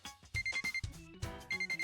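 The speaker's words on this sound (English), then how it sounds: "the alarm on my phone started to ring." A phone alarm rings in a slice-of-life romance video game, sounding as a run of repeated, evenly spaced electronic beeps in short bursts over soft background music.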